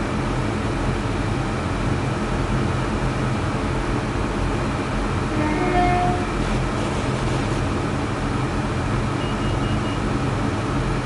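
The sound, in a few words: train engine revs in video game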